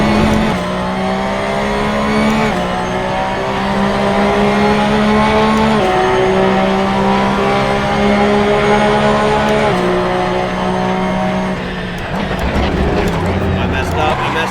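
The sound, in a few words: race car engine and tires in a sim racing video game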